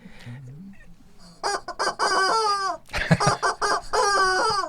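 A person imitates a rooster crowing, with repeated harmonic, squawking cock-a-doodle-doo calls in two loud bursts after a quieter low start.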